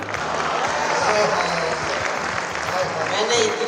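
Audience at a Hindi poetry recital claps steadily, a dense, loud round of applause from a large crowd with a voice heard over it.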